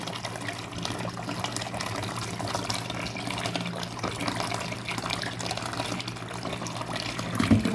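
Calamari being rinsed under a running kitchen tap, a steady continuous rush of water splashing over the squid, close and even throughout with no talking.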